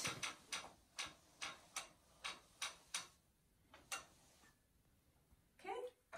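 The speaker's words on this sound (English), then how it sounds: "I am then going to unhook the ratchet," Crisp mechanical clicks from a longarm quilting machine ratchet come in a quick regular series of about nine, then a couple more after a pause, with a rustle near the end; quiet indoor setting.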